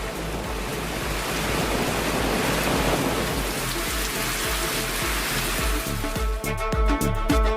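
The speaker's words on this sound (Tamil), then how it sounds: "நீலகிரி மாவட்டம் உதகை மற்றும் சுற்றுவட்டார பகுதிகளில் கனமழை பெய்தது." Heavy rain pours down around Ooty in the Nilgiris, a loud, dense, continuous roar of drops on surfaces, with sharper dripping taps toward the end and no voices.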